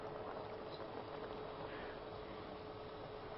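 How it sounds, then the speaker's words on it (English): Liquid bubbles at a steady rolling boil while five-finger fig root simmers in a pot, a continuous close, dense hiss and burble with no talk over it. "Look at the bubbling. I love it."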